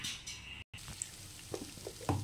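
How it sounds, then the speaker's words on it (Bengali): An egg fries in a little white oil in a wok, a quiet, steady sizzle with soft crackles and a brief dropout partway through. "এখন একটা ডিম ভেজে নেব।"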